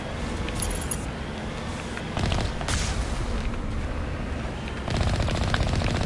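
Automated turret cannons fire in the video game Mass Effect, rapid bursts of gunfire with booming impacts that swell louder partway through, close and continuous.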